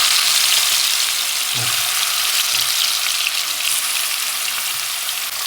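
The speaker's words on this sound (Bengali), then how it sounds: "এগুলোকে এখন ভেজে নিব আমি।" Small cut pieces of meat frying in oil in a wok, a loud, continuous, dense hiss of sizzling that stays steady throughout, close up with no voices.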